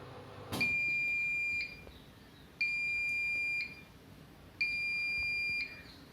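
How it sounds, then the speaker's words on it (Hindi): A Bosch fully automatic front-load washing machine sounds its wash-complete alarm: three long, steady electronic beeps, evenly spaced about two seconds apart, clear and close with no other sound. "जैसे ही वॉश कंप्लीट हो जाता है तो ये आपको साउंड से अलार्म इंडिकेट कर देता है कि हाँ वॉश कंप्लीट हो गया है"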